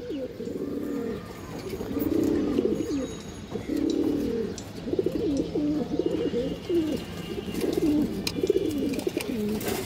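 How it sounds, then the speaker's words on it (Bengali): A pair of large pigeons coo close by in repeated throaty, rolling phrases that run almost continuously, with faint chirps in the background and no voices. "মাদিরা দেখেন দুটো কবুতর কিন্তু বিগ সাইজের মাশাআল্লাহ"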